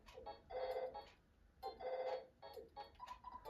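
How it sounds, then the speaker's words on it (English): A telephone rings in the video game EarthBound: chiptune-style trilled rings repeating in short bursts with brief gaps, clear and close, with no voices over it. "The phone is ringing. Answer it."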